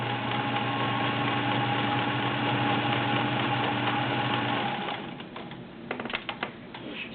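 A Sears Kenmore model 1802 sewing machine running a zigzag stitch, giving a steady, close mechanical whir with fast rhythmic ticking for about five seconds, then stopping and leaving a few clicks and handling knocks.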